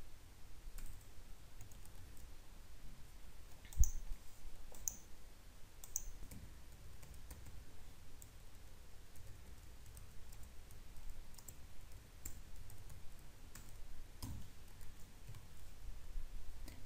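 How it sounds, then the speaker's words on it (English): Faint, sparse computer mouse clicks tick at irregular intervals over a quiet room hum, with one sharper click standing out among them. "Let's click on this link."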